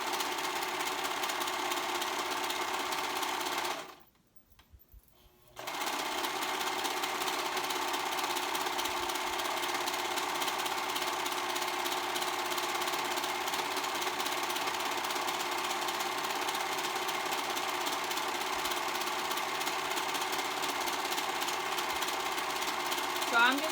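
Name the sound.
sewing machine stitching a fabric strap closed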